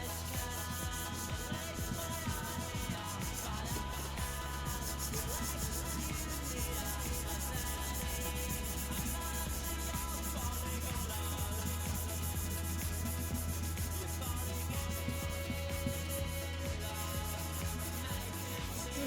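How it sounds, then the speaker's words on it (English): Steady rubbing and scraping of a hand sanding pad worked back and forth over a car's painted panel during a quick paint repair, a continuous close abrasive hiss with no talking. "Sanding."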